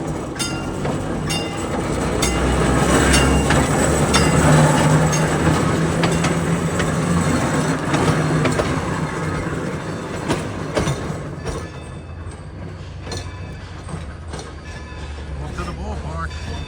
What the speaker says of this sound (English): Well, the Scranton Limited's backing up.